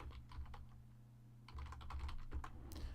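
Quiet clicks of typing on a computer keyboard in short bursts and irregular taps over a low steady hum, faint and close.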